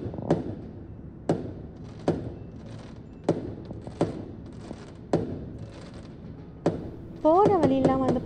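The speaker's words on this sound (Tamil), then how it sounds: "எல்லா பக்கமும் வெடி சத்தம் வந்து கேட்டுகிட்டே இருக்குது." Chinese New Year firecrackers bang in the distance, a run of sharp, well-spaced thumps about once a second, followed by a brief rising whistle-like tone at the end.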